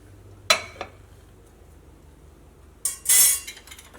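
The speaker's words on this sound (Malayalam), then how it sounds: "അപ്പോൾ അതിന് വേണ്ടിയിട്ട് ഒരു മിക്സിയുടെ ജാർ എടുക്കുക." A mixer grinder jar being picked up and set down in a kitchen: two short clinks near the start, then a louder clattering knock and a brief rattling scrape, close by with quiet gaps between.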